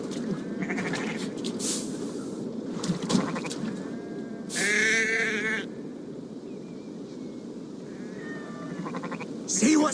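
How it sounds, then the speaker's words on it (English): Sheep in the video game Assassin's Creed Valhalla give a loud, wavering bleat midway, with a fainter bleat near the end, over a steady ambient game background. "Feed the sheep and see what comes out."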